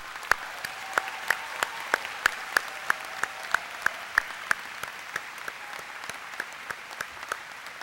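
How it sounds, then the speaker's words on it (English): Sparse, evenly spaced claps from the audience at a law school commencement ceremony, with crisp individual hits in a steady rhythm over a quiet room. "Let's acknowledge them by giving them a big round of applause."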